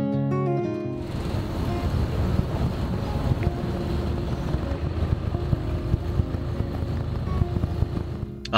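Steady engine drone and wind rushing over water, continuous and fairly loud, aboard a ferry leaving Zamami Island, Okinawa, Japan; no talking.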